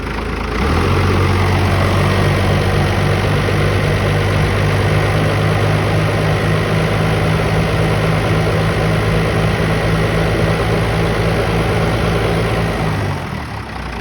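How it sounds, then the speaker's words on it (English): Close, loud car engine is revved up and held at a steady raised pitch for over ten seconds, then drops away near the end, with no speech over it. "Rev it up."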